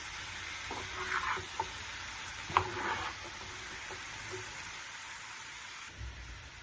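Pieces of liver, cooked with amaranth leaves, sizzle faintly in a pan with occasional soft clicks and scrapes of a spatula stirring them.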